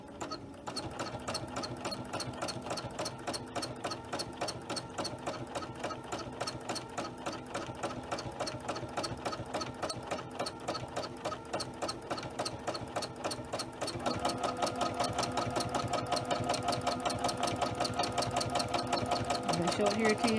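A sewing machine runs fast, steady stitching during free-motion quilting on a small project: a dense, even mechanical chatter that grows louder and busier partway through, with a voice speaking faintly underneath.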